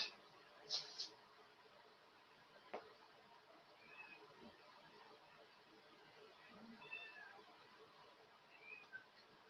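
A cat meows faintly a few times, short and scattered cries, over a quiet background with some soft knocks and light noise.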